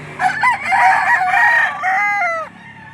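A rooster crows loudly and close by at the Lipa livestock auction market, one drawn-out crow rising and falling over roughly two seconds with faint background murmur.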